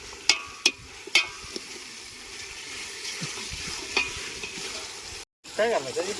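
Chicken and mutton sizzle steadily in a pot over a wood-fired clay stove while a utensil stirs and scrapes, with a few sharp clanks near the start.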